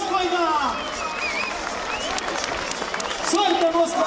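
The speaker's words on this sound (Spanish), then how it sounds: "Dándole un fuerte aplauso a este Bosco." A crowd applauds at a jaripeo bull-riding event during a Michoacán fiesta in Santiago Azajo; scattered clapping rises behind a loud announcer voice talking over a murmuring crowd.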